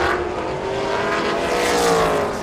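Trans Am V8 race cars and a Toyota Supra racing on a circuit at Thailand Super Series, engines roaring loudly and continuously as they pass close, with rising and falling pitch over a dense, steady wall of noise.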